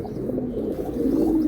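Racing pigeons coo in soft, repeated low murmurs close by, a continuous warbling purr with no talking over it.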